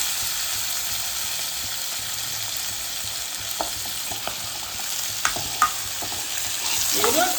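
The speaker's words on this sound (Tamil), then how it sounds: "இந்த எண்ணெயிலேயே முருங்கை போட்டுருவேன். இதுலேயே ஃப்ரை பண்ணாக்கா அந்த இதில் நல்லா ஃப்ரை ஆகிட்டு நல்லா போட்டுருவேன்." Drumsticks frying in oil for Bangalore-style sambar: a steady low sizzle with a few soft crackles and pops near the end, no voices.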